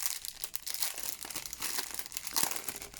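Plastic bags of diamond painting stones crinkle and rustle in quick, close handling bursts, loud and continuous for a few seconds with no talking.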